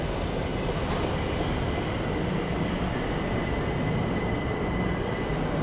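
A train arrives at a UK station platform, its steady low rumble and rail noise filling the scene at moderate volume with faint squeals, no voices.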